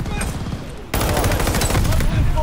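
Huge explosion from an S-mine placed on a C4 charge in a shooter video game, a sudden loud blast that bursts in and keeps roaring with crackling gunfire-like debris.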